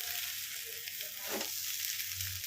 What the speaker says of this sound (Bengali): এই দেখুন ভালো করে এখানে একদম ঝরঝরে করে ভেজে নিয়েছি চালটা